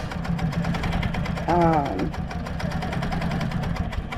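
Sewing machine stitching a wildlife-themed quilt runs with a steady mechanical whir, loud and close, while someone talks over it throughout.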